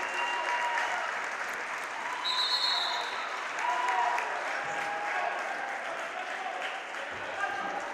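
Spectators from both the Auburndale and Newman sides at a girls' high school basketball game applaud a player's milestone with steady, dense clapping that fills the gym, with a commentator speaking over it.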